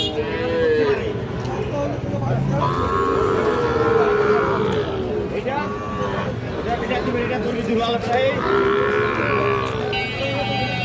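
A Sahiwal bull calf at a busy cattle market lets out several loud, drawn-out moos close by, over a background of crowd murmur and voices.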